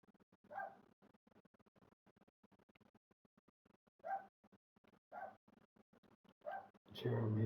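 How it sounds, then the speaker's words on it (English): A neighbouring dog barks in a few brief, fairly faint bursts at intervals, heard from next door beneath a quiet indoor room tone, with a louder scuffle or bump at the very end. "Let's excuse next door's dog barking away"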